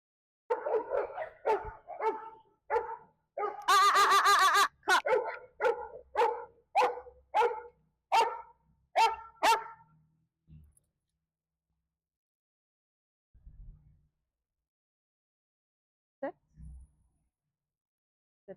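A Goldendoodle playing at a dog park barks in a steady string of sharp, loud barks with a brief frenzied burst partway through. Then it goes quiet except for a couple of faint later sounds.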